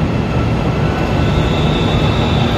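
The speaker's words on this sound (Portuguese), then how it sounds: "Esse trem aqui do lado," A CPTM metropolitan train at Luz station in São Paulo gives a loud, steady rumble of rolling cars with broad rail noise and no pauses, close by and without talking.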